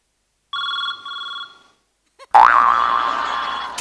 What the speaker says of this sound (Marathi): तुमचा फोन वाजतोय.